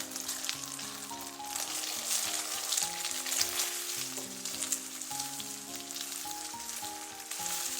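Eggs sizzle and crackle in very hot, lightly smoking oil in a wok, a continuous bright frying hiss with scattered pops, set against steady background music and no talking.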